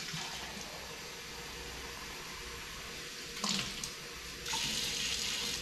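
Warm running water streams steadily from a tap into a sink, a constant hiss that grows louder and fuller near the end as the flow increases.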